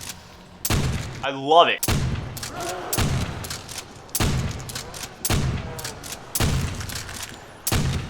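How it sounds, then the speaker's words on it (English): Trench gun shotgun from Call of Duty Zombies, Nacht der Untoten map, firing in repeated loud, punchy blasts about once a second with a short electronic effect between shots, while someone speaks briefly over the gunfire. "The trench gun is actually one of my favorite shotguns in zombies."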